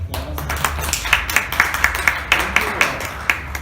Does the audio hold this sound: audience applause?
yes